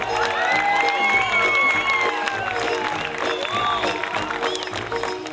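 A crowd at a school-style show applauds, cheers and whoops for the band, lively clapping mixed with high children's shouts and excited voices, sustained throughout.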